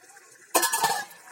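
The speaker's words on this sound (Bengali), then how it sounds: "আর একটু নেড়ে নিচ্ছি" Raw rohu fish curry is stirred in a pan: after near silence comes one brief clattering scrape of a utensil against the metal, up close and fairly quiet.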